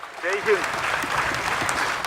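Scientists and space enthusiasts applauding the Chandrayaan-3 separation from its rocket, a steady spread of clapping with a brief voice near the start.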